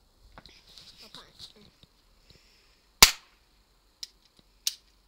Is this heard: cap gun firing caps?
yes